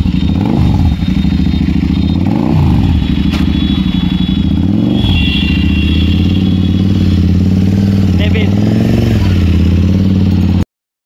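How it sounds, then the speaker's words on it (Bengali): A modified motorcycle with a loud aftermarket exhaust revs repeatedly up close, the engine note climbing and falling in several rhythmic throttle blips over a steady rumbling idle before cutting off. "এখন এই বাইকের আওয়াজটা শুনবো, এক্সস্টের আওয়াজটা কীরকম, কতটা"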